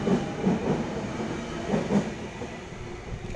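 A Sydney commuter train departs Turrella station platform 2, rolling along with rhythmic clickety-clack over the rails and a low rumble, pairs of wheel knocks recurring under a steady hiss.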